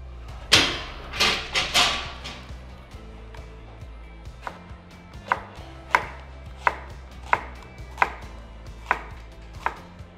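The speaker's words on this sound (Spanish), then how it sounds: "vamos a cortar medio pimiento, un pimiento rojo" Knife chopping half a red bell pepper on a board, starting with a few heavy cuts and then settling into a regular series of crisp close chops about every two-thirds of a second.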